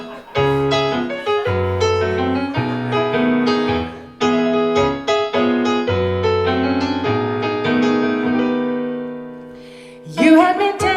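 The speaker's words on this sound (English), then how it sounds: "here's my weird like vaudeville ragtime song." Solo piano at a live club set plays a bouncy vaudeville-style ragtime tune with steady stride rhythm and chordal accents, loud and close, with a brief swell of crowd noise near the end.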